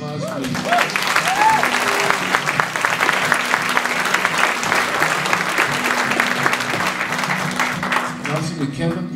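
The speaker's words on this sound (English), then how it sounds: "Give them a big round of applause, please." A live folk concert audience gives loud, sustained applause, a dense steady wash of clapping from the crowd. It continues for several seconds, with a voice speaking briefly near the start.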